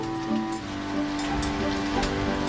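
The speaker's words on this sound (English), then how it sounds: "That night, a raging storm rolled in." Heavy rain pelts down through a raging night storm, a dense steady hiss of drops drumming on surfaces with no gaps, close and continuous, under faint tonal background music.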